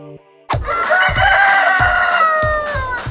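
Roosters crow loudly and close by while hens cluck in a steady rhythm on an egg farm of about 12,000 chickens, the crowing running continuously over a repeating low clucking pulse.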